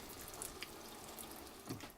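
A low, even trickle of water from an RV faucet while boondocking, a faint, steady flow without pulsing, with a couple of small splashes or drips near the end.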